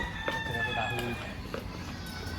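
Live chickens at a meat shop cluck and a rooster crows under lively chatter, with people talking over the birds and background shop noise throughout.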